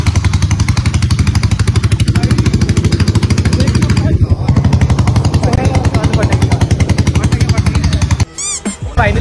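A Royal Enfield Bullet motorcycle with its silencer removed runs close by with a loud, rapid, hammering thump that goes on without a break. A brief drop and a burst of sharper noise come near the end.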